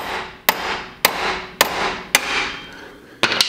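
Hammer blows on the crank pulley nut of a C6 Corvette during pulley removal, five sharp metallic strikes spaced about half a second apart with ringing decay, the last a quick double hit, loud and close with no talk.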